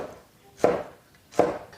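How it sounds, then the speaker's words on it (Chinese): Two crisp knife chops land about three-quarters of a second apart as small green chili peppers are cut into angled chunks on a board, each a sharp close tap with a short ring. "切成滚刀块。"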